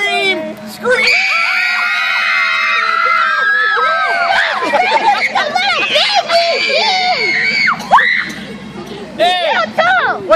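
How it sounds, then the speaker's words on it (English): People scream loudly and continuously while riding a trailer towed behind a pickup truck, several voices overlapping in excited shrieks and shouts close by. "Scream! Scream!"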